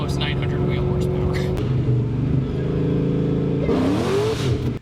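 Engine of an SN95 Ford Mustang revs in a steady, droning note that shifts pitch in steps and climbs near the end, loud and close throughout.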